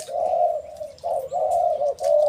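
A pigeon coos close by in several low, rolling phrases separated by short pauses.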